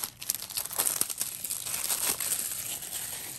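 Plastic shrink wrap being torn and crinkled off a Barbie Dreamhouse Adventures DVD case, a close, busy run of crackling rustles for a few seconds with no talking.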